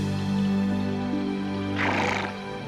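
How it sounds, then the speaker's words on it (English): A horse gives a loud, close neigh, a strained whinny rising to a harsh breathy burst near the end. "or our noble steed, the horse."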